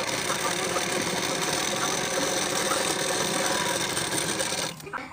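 A sewing machine runs steadily, double stitching a size 38 bra-cut blouse, giving a continuous close whirring rattle that cuts off abruptly near the end.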